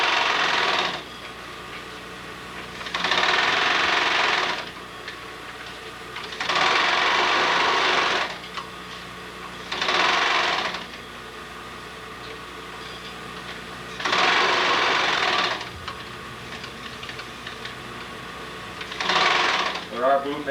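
A sewing machine top stitching in several bursts of steady running, each a few seconds long, separated by pauses with a quiet background hum.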